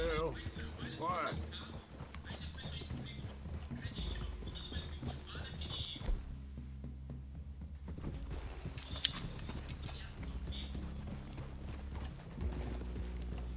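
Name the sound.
horses walking, clip-clop hooves, from video game Red Dead Redemption 2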